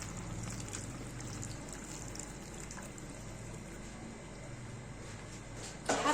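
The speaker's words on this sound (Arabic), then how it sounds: "طبعا الميه قليله هزودها ميه مغليه سخنه من الكتل يعني" Hot boiled water from a kettle pours into a pot of pasta in a home kitchen, making a steady, fairly quiet splashing stream that runs for several seconds and ends in a brief louder clatter.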